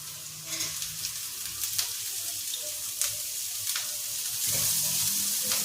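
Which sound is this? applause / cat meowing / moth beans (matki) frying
moth beans (matki) frying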